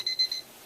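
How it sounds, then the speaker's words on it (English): An alarm clock rings with three quick, high electronic beeps in a short burst, close and fairly clear, then cuts off. "My alarm clock is starting here. It's my alarm clock."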